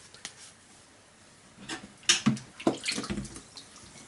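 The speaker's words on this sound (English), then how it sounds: "With the clay pot, just rinse it with clean water." Clay teapot rinsed with clean running water, intermittent splashing and trickling with a few clinks of the pot, fairly quiet and close.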